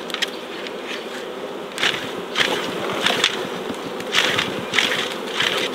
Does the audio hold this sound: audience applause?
no